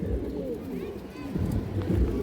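Low, throaty cooing of a black Monajak female pigeon on a pigeon farm, a few soft rolling coos close by, mixed with someone talking.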